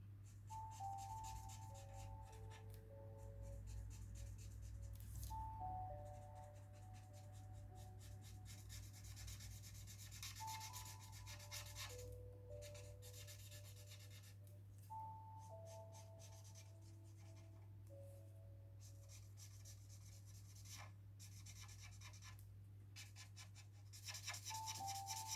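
Felt-tip markers rub across a paper colouring page in quick, close, quiet strokes, steady throughout, with soft music playing underneath.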